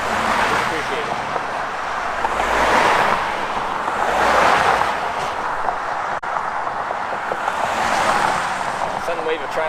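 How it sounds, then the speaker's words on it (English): Road traffic passes by, with vehicles swelling into loud whooshes about every couple of seconds before fading, over a constant hum of more distant cars. "Sudden wave of traffic."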